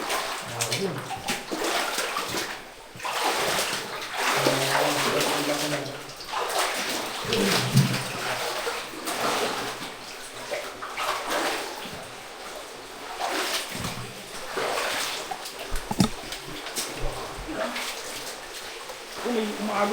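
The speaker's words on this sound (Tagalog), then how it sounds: "May umaagos na tubig ah." Water flowing and splashing inside Panuyuan Cave in Siargao, a long cave, with a steady loud rush throughout, sloshing surges and voices talking over it.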